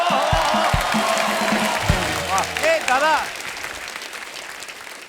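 A comedy show studio audience claps and cheers for a guest, with someone speaking briefly over the steady applause, which fades toward the end.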